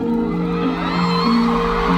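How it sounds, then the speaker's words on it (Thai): A concert crowd whoops and screams continuously, an energetic roar of many voices with a steady low hum underneath. "ขอเสียงปรบมืออย่างเรียวกราว เสียงกรี๊ดอย่างเฮลเลน"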